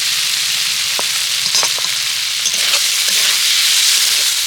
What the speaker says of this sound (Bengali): এবার বেশ কয়েকটা কারি পাতা আমি এখানে দিয়ে দিচ্ছি আর একটু নেড়ে চেড়ে আমি এটাকে নামিয়ে নেব